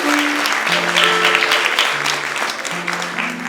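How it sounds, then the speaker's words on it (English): Audience applause at Joe's Pub, a New York music venue: dense, loud clapping from a crowd, sustained throughout, with a voice speaking over it. "A round of applause for everybody who works at Joe's Pub."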